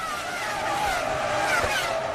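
Formula 1 cars from the F1 2005 game at the German Grand Prix start, a dense pack of high-revving engines screaming together with whining pitch shifts and tyre squeal, loud and close throughout.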